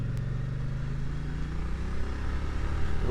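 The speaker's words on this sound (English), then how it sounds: "So now on to the engine, and that very characterful V-twin." A Moto Guzzi Stelvio V-twin motorcycle engine runs at low revs with a deep, throbbing, uneven pulse that builds slightly toward the end, heard close and alone.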